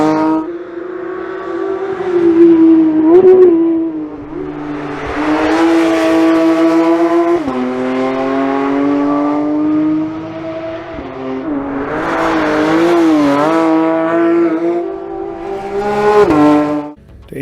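A 2022 Porsche 911 GT3 with a naturally aspirated 4.0-liter flat-six engine revs hard and close, climbing through several rising pulls and dropping back between them, loud with no talk.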